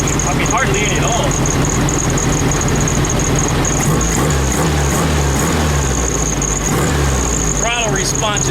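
A 1972 VW Beetle engine idles steadily with a low, even rumble throughout, freshly fitted with an SVDA distributor, while a voice talks over it.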